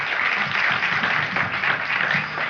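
An audience at a variety show in Barcelona claps for guest designer Nina Khan. The applause is dense, even and sustained throughout, and no one speaks over it.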